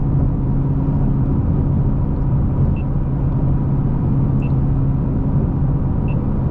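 A modified 2018 Ford Mustang GT V8 with aftermarket long-tube headers and full exhaust, running in normal mode, gives a steady, loud, deep rumbling drone that stays even throughout, heard up close with no talking.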